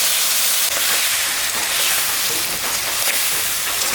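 Mustard-poppy paste with chili paste sizzles steadily in a hot pan, a loud, even frying hiss with no talking.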